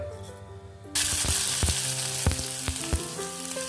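Mustard seeds and cumin hit a ladle of hot oil for tempering a cauliflower-potato curry, bursting into a sudden loud, close sizzle with sharp seed pops and crackles over a continuous hiss.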